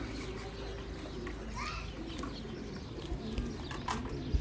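Homing pigeons coo softly in a loft, faint and intermittent against a busy background, while people talk nearby.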